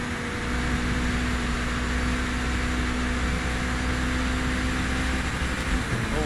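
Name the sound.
race car engine hitting the rev limiter, Project Motor Racing video game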